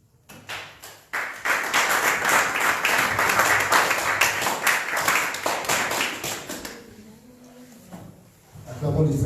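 A Sunday church congregation in Paris breaks into loud, sustained applause with dense, rhythmic clapping close by, then the clapping tapers off into a quieter room.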